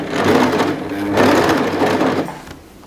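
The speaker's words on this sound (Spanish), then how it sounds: "Para que quede perfecta tiene que ir ahí." Overlock sewing machine stitching fabric, a continuous close, loud whirring hum that rises and falls slightly before slowing at the end.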